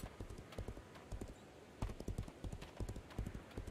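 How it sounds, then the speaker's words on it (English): Horse hooves clip-clopping at a steady ridden gait in a video game, a quick repeating rhythm of close, fairly soft hoof strikes. "the stream's gonna be me running around the map on my horse"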